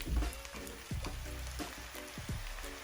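Butter and soy sauce sizzle in a frying pan for prawn fried rice, a steady crackling hiss with a few clanks and stirring scrapes, close up and without voices.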